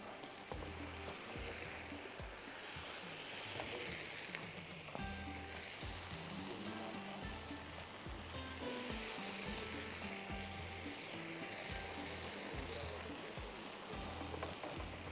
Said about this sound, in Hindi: ये आप फ्राई करेंगे